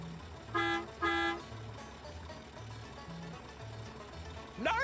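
A cartoon vehicle in the Hey Duggee game toots its horn twice in quick succession over a bouncy musical backing, with a brief rising sound effect at the end.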